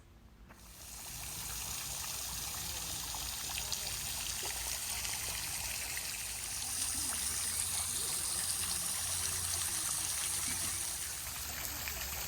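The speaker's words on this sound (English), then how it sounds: "that swimming pool has now been created into a wonderfully calming and peaceful water feature where you can sit and relax" Continuous gentle trickle and splash of water from a garden water feature built into a former swimming pool at a historic house in North Carolina, steady and fairly close, with no talking.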